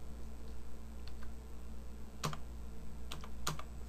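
Numbers are entered on a computer keyboard during an accounting exercise, with several crisp key clicks in quick pairs spread over a few seconds, close but fairly quiet over a steady background hum, and no talking.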